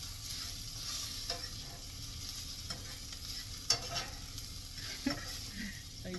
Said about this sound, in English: Let me stir these mushrooms up.